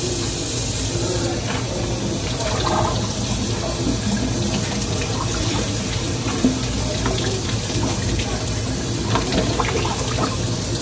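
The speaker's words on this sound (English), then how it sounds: "I'm just gonna rinse out the fruit." Cold tap water runs steadily over strawberries and grapes being rinsed in a kitchen sink, a constant close hissing splash that continues without a break.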